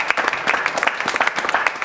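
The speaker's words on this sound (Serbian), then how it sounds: "Ovo je veliki aplauz za žiri Pinkovih zvezda" A television studio audience applauds the jury of a Pink TV star show, a brief burst of dense, lively clapping close by that holds steady throughout.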